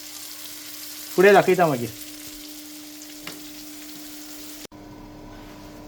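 Prawns fry crisp in a pan with a constant close sizzle and a low steady hum; a brief voice speaks near the start, and the sound cuts off sharply just before the end.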